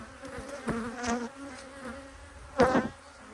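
Angry honey bees mill around an open hive in a thick, continuous hum, with several bees zipping past close by in loud, wavering whines, one especially sharp near the end.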